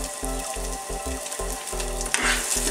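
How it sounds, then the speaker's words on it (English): Sliced shallots frying in grapeseed oil, a close steady sizzle with rhythmic stirring strokes and a brighter surge of crackle near the end, with no talking. "Next, I'm going to be throwing in my sliced shallots."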